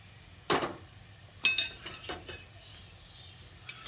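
A metal spoon stirs fried egg-and-boiled-potato fritters into simmering gravy in a pan, giving a few sparse, sharp clinks and scrapes against the metal over a faint, quiet bubbling background.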